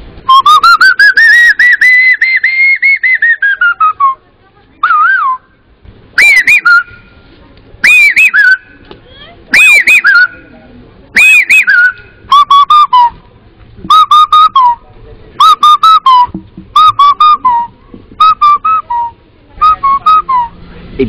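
A man whistles an imitation of a cuckoo's call, starting with a long rising and falling note, then a loud, close series of short repeated two-part calls with brief gaps between.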